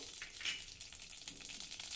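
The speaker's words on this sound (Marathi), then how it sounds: "तूप चांगलं गरम झालं आता यामध्ये थोडी मोहरी घालू" Mustard seeds crackle and sizzle in hot ghee for tempering kadhi, faint irregular pops and a soft frying hiss close by, with no talk.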